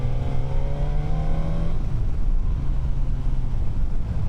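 A Suzuki GSX-S1000F motorcycle engine pulls at partial throttle, a steady rising drone that drops in pitch midway while wind rushes loudly and continuously over the microphone.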